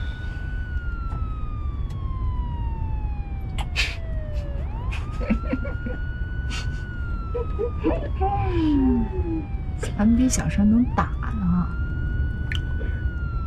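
A police car siren wails in long rising and falling sweeps, fairly close and continuous, while people talk over it in a city drama scene.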